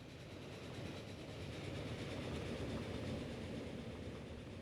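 A train running along rail track in the video game Transport Fever, a steady rolling rumble with faint clickety-clack, continuous and fairly loud throughout with no talk.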